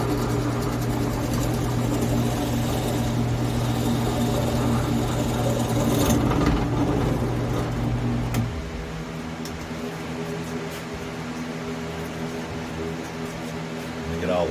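A drill bores a hole into a wooden hummingbird house, a steady high whirring whine running close and loud, then dropping to a lower, quieter hum as the drilling eases off.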